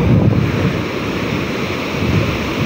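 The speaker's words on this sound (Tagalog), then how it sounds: "ang lakas ng alon" Strong ocean waves surging and crashing continuously at a beach, loud and close, with gusty wind buffeting the microphone.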